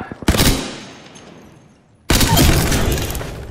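Hemlock burst assault rifle in Apex Legends firing two loud close bursts of rapid shots, each followed by a ringing decay, with a short gap between them.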